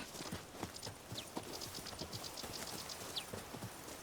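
Horse hooves from The Witcher 3 pound in a steady galloping clip-clop across the whole stretch, fairly quiet, with faint wind and ambient game sound beneath.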